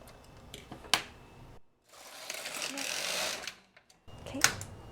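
A knitting machine carriage runs across a row in a short mechanical whir, with clicks and ticks before and after it and a speaking voice nearby.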